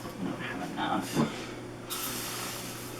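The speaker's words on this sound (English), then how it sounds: "I prefer to spray it on my rag instead of directly onto the appliance." Stainless steel cleaner is sprayed onto a rag from a spray bottle, giving a few short close hissing bursts over steady background hum.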